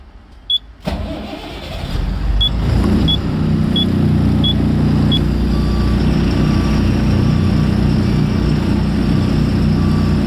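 A truck maneuvering into an unloading point during a delivery in Kerala: a steady, loud diesel engine rumble runs throughout, with a reversing beeper chirping five evenly spaced times early on.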